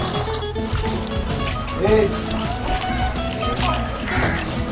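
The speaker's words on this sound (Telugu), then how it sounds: "ఇప్పుడైతే ట్యాప్ దగ్గర వేసేసుకొని వాటిని వాష్ చేసుకున్నాను" Food being rinsed under a running water tap before boiling, giving a steady, close rush of flowing and splashing water throughout, with a person talking over it.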